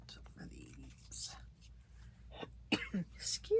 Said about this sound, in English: I don't even know where that cough came from.